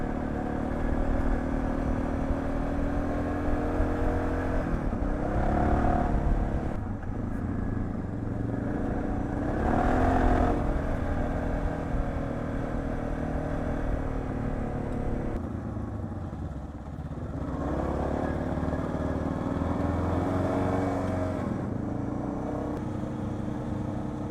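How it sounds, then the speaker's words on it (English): A Honda CB500X motorcycle rides along a gravel dirt road, its engine a steady loud drone with harmonic rumble throughout, swelling slightly a few times and dipping briefly near the end, with crunchy clatter underneath. "Sorry, my bike is so loud right now I can barely hear."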